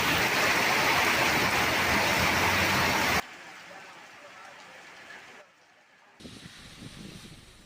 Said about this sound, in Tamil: பரவலாக மழை பெய்தது